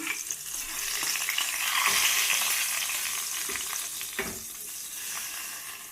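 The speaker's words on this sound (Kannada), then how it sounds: "ಈಗ ಒಗ್ಗರಣೆ ಹಾಕಿಟ್ಟಿದ್ನಲ್ಲ ಈಗ ಹಾಕ್ಕೊತೀನಿ ನಾನು ಇದಕ್ಕೀಗ" Loud, steady sizzling of hot oil tempering hitting a pot of simmering rasam, with a few sharp crackles and clinks along the way, no voices.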